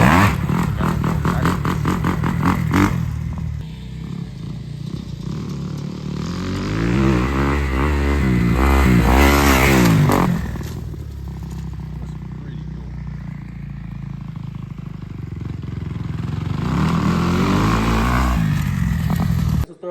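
A Razor mini bike's small engine buzzes and revs close by at a rural Nebraska FMX ramp, rising and falling as it accelerates, with clattering and people talking over it.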